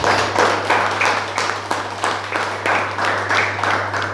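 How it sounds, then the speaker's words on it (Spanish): A church congregation applauds the Lord in rhythmic unison, loud pulsing claps at a steady beat over a constant low electrical hum. "Dele un aplauso al Señor entonces."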